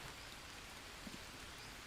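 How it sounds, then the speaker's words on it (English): Steady, even rainfall in the video game Green Hell patters continuously, a soft wash of noise with no voices or other sounds. "now that it's raining."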